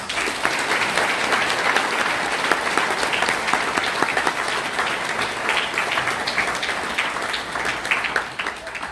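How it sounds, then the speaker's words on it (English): A live audience at a Give Kids The World event breaks into loud, sustained applause welcoming Disney Legend Tony Baxter and Jason Sorrell, dense and even throughout with faint crowd murmur underneath. "to hear from Tony Baxter and Jason Sorrell, so give them a round of applause"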